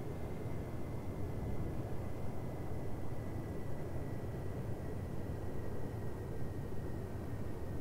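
A steady aircraft engine drone from a flight game on iOS, a continuous loud broadband roar with a faint whine held evenly throughout, with no voices.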